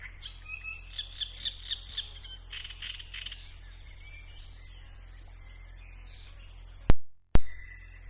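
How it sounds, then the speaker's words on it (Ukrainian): Nightingale song in a quick run of bright, repeated phrases over the first few seconds, then faint background twittering, with two sharp clicks near the end, at a forest watering hole. "Норка завітала послухать солов'я."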